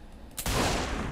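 Burst of gunfire from the video game Saints Row 4 erupts a third of a second in and rolls on as a dense, loud fusillade to the end.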